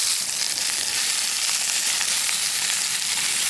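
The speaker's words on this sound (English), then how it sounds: "Looks like we could use maybe a touch of oil in the pan. And I'm gonna get the peppers going." Sausage and peppers sizzle in an oiled pan over a camp cooking setup, a steady, dense frying hiss that holds close and even throughout with no voices.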